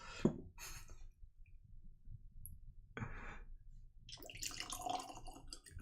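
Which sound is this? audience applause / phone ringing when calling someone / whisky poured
whisky poured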